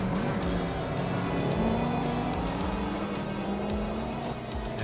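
A Mustang race car engine in a racing video game, a loud steady high-revving drone with rising and shifting pitch as the car closes in, continuous and alone.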